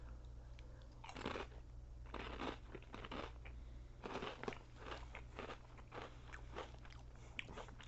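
Close, crisp crunching from biting into thick, ridged Nissin spicy seafood chips, with several bursts of chewing and crackle over a steady low hum, no talking.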